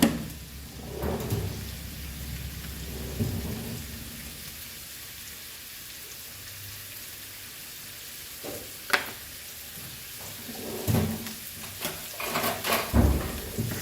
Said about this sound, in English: now I will saute this onion